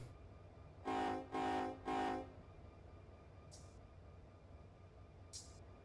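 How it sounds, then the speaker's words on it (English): Three long, loud horn blasts in a steady rhythm from a container train departing a hump yard in Run 8 Train Simulator, followed by quieter rail ambience with a couple of faint high hisses. "Oh, that train finally got to leave. That container train that sat here for like hours."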